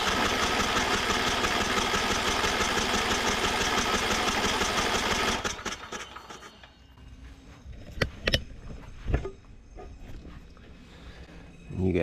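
A Craftsman YT3000 riding mower engine cranks over with a loud, steady mechanical drone for about five seconds, then stops, leaving a few scattered clanks and knocks.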